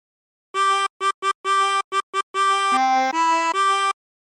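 Chromatic harmonica plays the opening phrase of the sea shanty Drunken Sailor, a sequence of about eleven clear, reedy blown and drawn notes, some short and detached, others sustained, heard alone with no talking.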